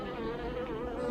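Dense, steady buzzing of many honey bees inside a capped honey hive box, a close, continuous droning hum without pauses.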